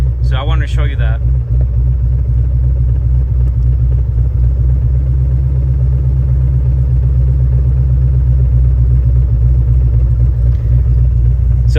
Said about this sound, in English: you'll still hear the engine change tune, like it bogs down a little bit